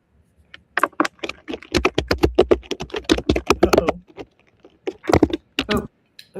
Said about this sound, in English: Typing something.